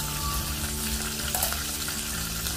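Bitter gourd fries in oil in a pan while being stirred, a close, steady sizzle broken by scraping stirs and small bubbling pops, with no voices over it.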